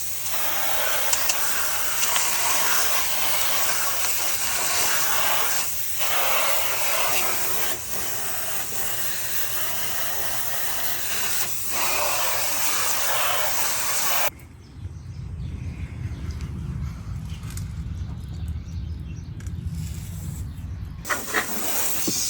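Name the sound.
light water spray rinsing Audi R8 engine bay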